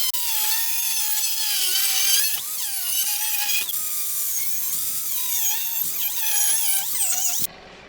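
A hand-guided cutoff wheel slices through metal brackets in a shop, giving a loud, continuous high-pitched shriek that bends in pitch as the cut loads and eases, then stops abruptly near the end.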